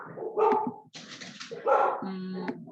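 Several dogs in a home bark and yelp at someone at the door, loud and close, with overlapping barks and a whine.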